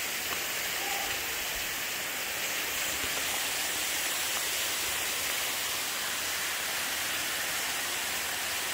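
Small creek flowing in Pisgah National Forest, a steady close rushing and babbling of water, continuous and fairly loud with no voices.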